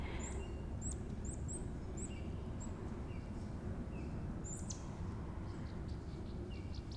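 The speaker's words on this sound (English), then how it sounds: "like the birds chirping and the rustling of the leaves" Repeated high bird chirps in a forest, scattered over steady low rumbling ambience, with several short calls early on and a few more later, moderately distant.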